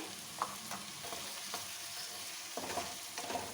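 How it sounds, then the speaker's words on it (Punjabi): Tomatoes frying for a capsicum (shimla mirch) curry, heard as a faint steady sizzle with light, scattered scrapes of a spoon stirring in the pan, quiet and with no speaking. "ਟਮਾਟਰ ਨੂੰ ਵੀ ਮੈਂ ਹੁਣ ਚੰਗੀ ਤਰ੍ਹਾਂ ਨਾਲ ਭੁੰਨ ਲਿਆ ਏ"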